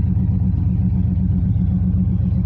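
The engine of a 1989 Chevrolet Silverado truck idles on old gas with a steady, loud, close low rumble and no voices.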